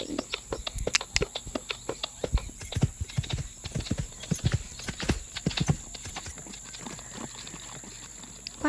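Horse hooves beat in a rapid, uneven clip-clop as a horse canters in a Roblox equestrian game, close and loud in irregular bursts.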